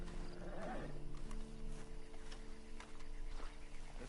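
A horse in the video game Red Dead Redemption 2 whinnies and snorts near the start, followed by light hoof clip-clops and ambient game sounds at low volume.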